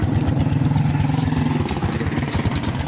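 A Kawasaki Barako 175 motorcycle with a power pipe exhaust running steadily nearby, a moderate, even thumping putter with a rapid regular pulse and no talking.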